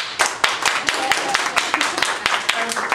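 A comedy club crowd claps and applauds at a stand-up show, a close, steady patter of many hands with sharper individual claps breaking through, loud and continuous for the whole stretch.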